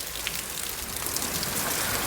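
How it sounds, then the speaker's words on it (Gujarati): Steady rain falls in an even, continuous wash with no pauses, close and moderately loud throughout, no voices. "વરસાદ કંઈક આ રીતનો ચાલુ છે"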